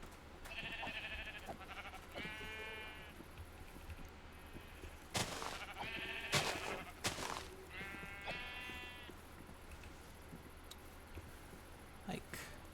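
Sheep in modded Minecraft give several short harmonic bleats, some in quick runs and some single, at moderate loudness over a steady low game hum, with a few sharp clicks in between.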